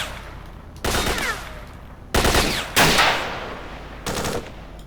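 Gunfire in the shooter game Stalker SHOC: four bursts of rapid automatic shots, each lasting under a second, separated by brief pauses and trailing off with echoing tails.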